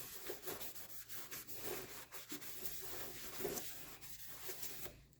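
A cloth soaked in lacquer thinner rubs a cylinder on a 350 Chevy TBI engine during a rebuild, giving a faint, continuous scrubbing and wiping sound in quick uneven strokes, with no talking.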